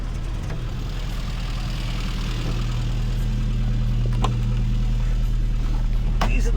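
An old car's engine idles cold with the choke pulled, holding a steady low rumble with a few faint clicks over it.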